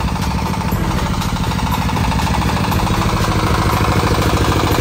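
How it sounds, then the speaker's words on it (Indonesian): A new 20 kVA diesel generator set runs loud and close, its steady engine drone carrying a fast, even mechanical chatter with no pauses. "Nah, dapat genset 20 kVA ya. Ini semua baru ya, ada dieselnya"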